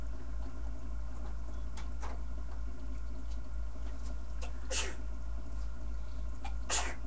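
A single sharp sneeze rings out near the end, with a few quieter bursts and faint clicks before it, while a duck egg is candled.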